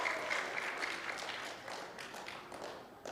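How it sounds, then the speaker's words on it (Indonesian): Audience applause fills a ballroom at an Indonesian event, a steady wash of clapping that holds at an even level throughout without voices on top. "Tepuk tangan dong untuk Keling Indonesia."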